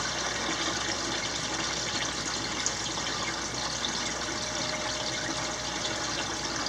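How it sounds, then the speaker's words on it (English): Water pours steadily into a shrimp tank during a water change, a continuous, close gushing and filling sound with no break and no voices. "the water that I'm putting in is very close to the water that's inside already"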